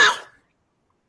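A single short cough from a man, a sharp burst that cuts off quickly and leaves silence, close and fairly loud.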